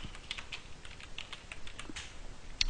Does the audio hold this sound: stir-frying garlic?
no